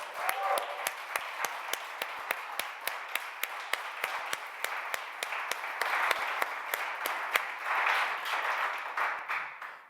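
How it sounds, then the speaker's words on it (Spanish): Steady applause from a church congregation fills the whole stretch, dense clapping with sharper rhythmic claps standing out at a regular beat. "Dele un aplauso al Señor porque Él es bueno."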